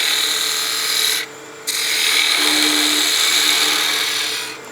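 A woodturning tool cuts the stem of a wooden spinning top on a lathe, giving a steady, loud rasping scrape that breaks off briefly mid-cut, then resumes before fading slightly.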